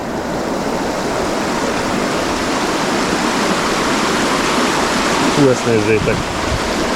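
Babbling water spills over a small cascade on the Zagyva river, a loud, steady, close rushing hiss that runs throughout, with someone speaking briefly near the end.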